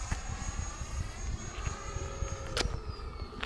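A radio-controlled turbine model airplane flying overhead, a steady high-pitched turbine whine with a shifting tone as it passes, moderately distant over low wind rumble and a brief sharp click near the end.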